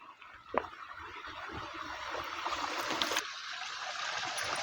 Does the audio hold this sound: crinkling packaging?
no